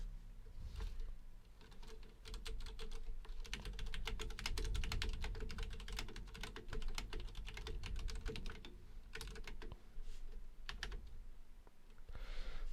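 Fingers type steadily on a Ducky One 2 Skyline mechanical keyboard. The dense, clicky keystrokes come up close and continuous, with brief pauses between bursts and no speech over them.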